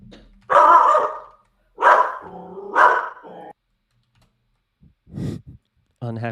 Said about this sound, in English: Unhappy dog.